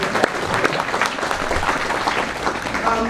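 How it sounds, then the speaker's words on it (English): Audience applause at a track and field banquet, a dense continuous wash of many hands clapping, loud and close throughout. "So can you give them a round of applause again?"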